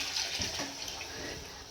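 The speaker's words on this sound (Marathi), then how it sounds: "गरम पाणी टाकून घेतलं." Hot water splashes into a pot of mutton biryani, a brief soft pour and gurgle that fades out quickly.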